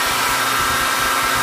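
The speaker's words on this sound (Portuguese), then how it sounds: "Agora vou jogar mais o secador." A hair dryer runs at full power off a solar off-grid inverter, a steady loud whooshing roar of motor and blowing air close by, with no talk over it.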